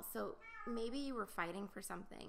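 A pet cat meows excitedly several times in quick succession, its cries mixed in with a woman's ongoing speech close to the microphone.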